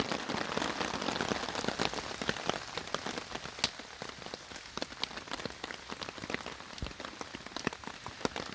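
Steady rain falls at a backwoods hammock camp in the Catskills on a chilly fall day, a dense patter of drops striking nearby surfaces with frequent close, crisp taps and no talking.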